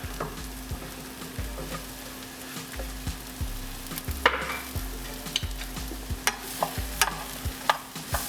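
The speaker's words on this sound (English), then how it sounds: "I'm gonna let that saute for a little bit." Onions sautéing in butter in a pan, a continuous moderate sizzle with a low steady hum beneath and regular soft scrapes and taps as the food is stirred.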